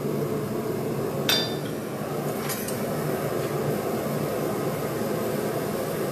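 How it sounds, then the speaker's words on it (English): A double-sided hammer strikes hot metal on an anvil during blacksmith knife making, with two sharp, bright clinks about a second apart over a steady, noisy background hum. "Love double-sided hammers like this."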